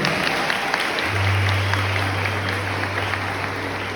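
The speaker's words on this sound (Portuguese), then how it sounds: "Uma salva de palmas também." A church congregation at a youth Mass breaks into steady applause, a dense patter of many hands clapping together, with a low hum underneath throughout the few seconds.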